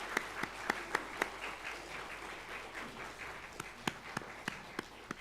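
Church congregation applauding a united choir at an Easter service, a diffuse wash of clapping with sharp individual claps popping out near the front, moderately loud and continuous.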